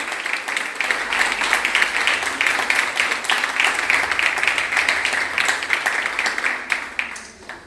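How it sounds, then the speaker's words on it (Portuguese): A church congregation applauds steadily and loudly for several seconds, a dense wash of many hands clapping that thins slightly toward the end. "Vamos aplaudir ao Senhor."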